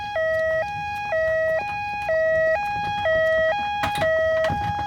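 An ambulance siren in a two-tone hi-lo pattern, alternating steadily and loudly at close range for several seconds with no talk over it.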